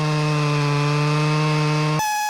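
Chainsaw trimming a felled tree log into a good solid piece, a steady loud engine drone at constant pitch that cuts off abruptly near the end, leaving a brief higher whine.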